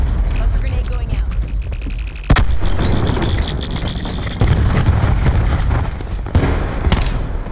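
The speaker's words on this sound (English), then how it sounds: "Cluster grenade going out." Cluster grenade blasts in the online shooter Black Ops 4 on Xbox One: a rapid string of loud, close explosions and pops with crackling bursts over several seconds, with player voices talking around them.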